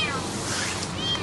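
A small kitten caught in a taxi's engine compartment in Istanbul meows. The cries are thin and continuous, mixed into a dense, noisy wash with what may be voices.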